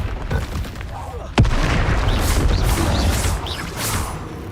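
A Confringo blasting spell bursts in Hogwarts Legacy with a sharp, loud crack followed by a sustained crackling roar and whooshing debris, close and dominant.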